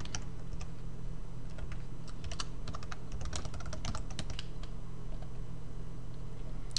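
Fast typing on a computer keyboard during account registration, with steady close-up clicks running throughout over a low room hum.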